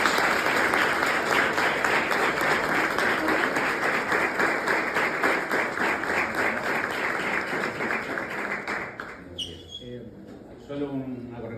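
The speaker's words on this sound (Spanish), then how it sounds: "los recibimos con un aplauso," Audience applause at a talk on the Austrian School of Economics, dense sustained clapping from a crowd for about nine seconds that then tapers off into scattered claps.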